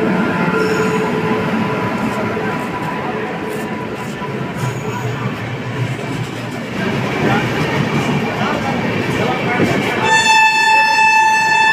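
A train pulling into Dehri-on-Sone railway station in India, a continuous loud rumble of wheels and rail cars with squealing, then sustained horn blasts near the end, amid crowd noise on the platform.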